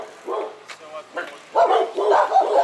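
A dog barks and yips repeatedly on a city street at night in Belize City, in a few loud bursts nearby, with people talking around it.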